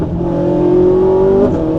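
A Ferrari 458 engine revving hard under acceleration, a loud sustained rising tone with exhaust crackle, close and alone without talk.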